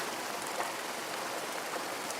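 Rain falls steadily in an animated Hindi cartoon, a continuous soft hiss of fine drops with no voices over it.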